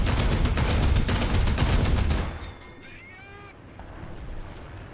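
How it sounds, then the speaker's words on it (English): Rapid aircraft cannon and machine-gun fire in the War Thunder combat game rattles loud and dense for about two seconds, then cuts off, leaving faint engine and ambient game sounds. "We're gonna shoot this guy for fun."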